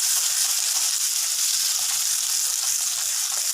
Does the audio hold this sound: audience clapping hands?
no